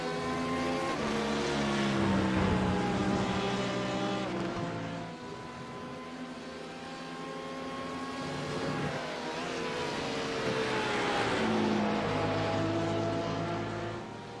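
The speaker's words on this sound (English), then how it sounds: "You can see the speed here these GTE cars have on the GT3s there, as the Porsche just flies past the BMW." GTE and GT3 race cars in a sim racing game, a Porsche flying past a BMW, engines whining steadily with rising and falling pitch as they sweep by, loud and continuous with no talk.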